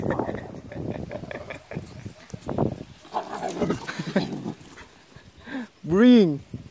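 A dog makes whimpering and growly noises while people talk nearby, then lets out one loud, drawn-out howling whine near the end.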